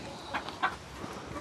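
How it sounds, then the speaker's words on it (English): Chickens clucking close by while being held in someone's arms, with a rooster nearby: a few short, scattered clucks over a steady background hum, no talk. "Hold on, I got 2 chickens in my arms."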